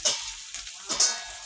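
Pork with meat masala, coriander powder, red chili and garam masala sizzles and fries in a pan, a steady crackle with a few louder hissing bursts as the meat is stirred.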